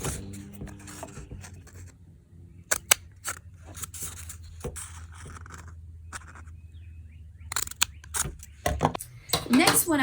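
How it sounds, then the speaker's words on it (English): Scissors making several cuts in material for homemade seed starter pods, crisp close snips spread across the stretch with a low background hum and some handling noise, growing busier near the end. "for today's purposes, I'm going to make 4 of these cuts."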